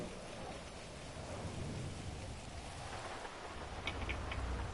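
Rain patters steadily in GTA Online, a soft dense hiss with low rumbling that suggests distant thunder, fairly quiet and continuous with no speech.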